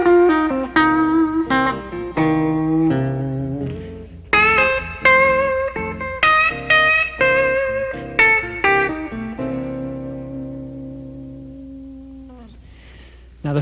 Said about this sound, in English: Now I'm going to show you a couple of licks that you can play on the first 4 bars of a 12-bar blues progression.